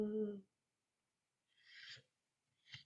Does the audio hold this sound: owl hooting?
yes